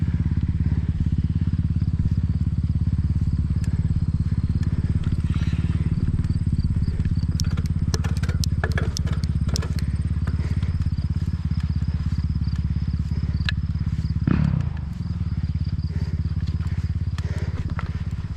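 Motocross motorcycles ride on a track near mountain bike trails in Simcoe County, their engines droning continuously at a moderate distance with faint clatter and crackle.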